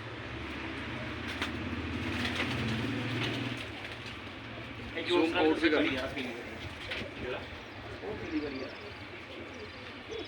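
Pigeons coo in low, rolling murmurs among a flock of flown pigeons kept by a fancier in Peer Mitha, Old City, Jammu, with people talking close by throughout.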